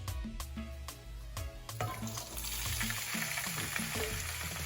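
Black beans hit a hot pot of oil over high heat, bursting into a close, dense sizzle that continues steadily while music plays underneath.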